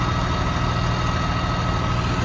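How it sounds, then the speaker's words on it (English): Steady, loud low rumble of a tractor engine idling on a farm, a continuous even drone with no change in pitch and no voices. "so they come with the tractor"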